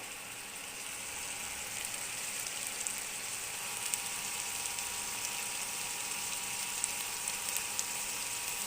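Broccoli roasting lightly in a pan gives a steady, faint sizzle with a soft crackle, continuous and even throughout, with no voices.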